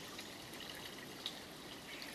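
A forest spring trickles steadily at a distance, a faint, even wash of running water with a few soft drips, no voices.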